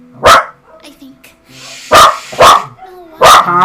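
A dog in Genshin Impact barks in sharp, close yelps, about four barks spaced unevenly over a few seconds, with quieter voiced sounds between them.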